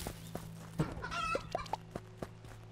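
A chicken in the video game Juicy Realm clucks in a few short, separate clucks over a low electronic game hum and soft tones, with no talk.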